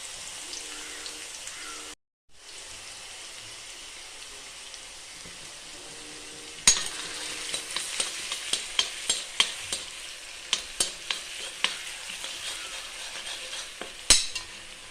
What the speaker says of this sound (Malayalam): വെളിച്ചെണ്ണ ചൂടായ ഇഞ്ചി, വെളുത്തുള്ളി ഇട്ടെടുക്കുക കേട്ടോ